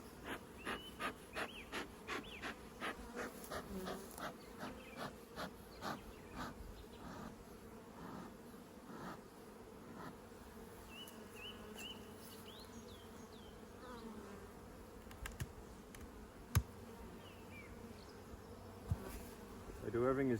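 A steady drone of honey bees fills the air around an open hive during a nuc transfer, with rhythmic puffing from a smoker early on and a few sharp knocks near the end.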